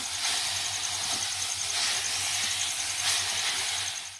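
Chicken pieces stirred in a hot pan, a steady bright sizzle and hiss that holds evenly throughout with a low hum beneath, no voices over it.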